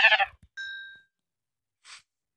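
A sheep in the Minecraft video game bleats in short synthetic calls, a clear bleat followed by a thin tone and a last brief bleat, alone with no talk.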